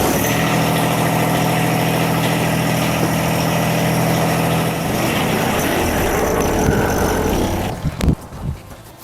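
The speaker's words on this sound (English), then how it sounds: "The only thing left that we have to do is test out the tractor." A John Deere 1023e compact tractor engine, freshly serviced with new hydraulic fluid, runs at a steady loud drone with a constant low hum, then drops off near the end into a few clunks and fading sputters.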